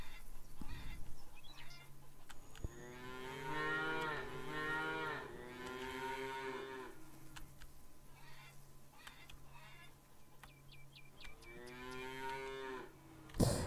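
Cattle in a stable within the farming game Farmers Dynasty give long drawn-out moos, three main calls spaced apart, over faint clucking chickens and ambient farm noise.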